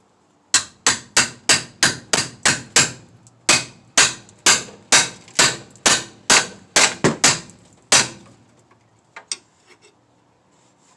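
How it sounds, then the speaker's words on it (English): A hammer strikes a wrench on a 17 mm nut while a 2007-2012 front-wheel-drive Mazda CX-7's rear wheel bearing is removed: about twenty sharp, loud metallic bangs in a steady close rhythm, then a few fainter taps. "I like to just put a wrench on there, hit it with a hammer."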